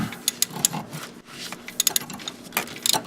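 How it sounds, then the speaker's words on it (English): A large ratchet breaking loose a tight 14mm alternator pivot bolt on a Toyota Sienna during A/C compressor replacement, heard as close, uneven bursts of ratcheting clicks and metallic scraping with short pauses. "Now I'm going to crack this pivot bolt loose on the alternator."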